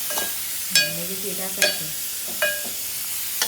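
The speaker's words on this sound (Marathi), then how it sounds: "मसाला टाकल्यावर घाटलून घ्यायचा." Masala is stirred in a pan, three quick scraping strokes over a soft sizzle, close by, while a voice speaks briefly.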